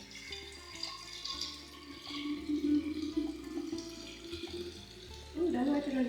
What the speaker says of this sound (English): I just want to pour some juice